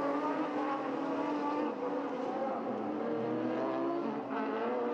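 A Peugeot 307 rally car roars through its Joker lap at Circuit des Ducs, France, the engine loud and continuous with shifting revs and gear changes across the whole stretch, no talk over it.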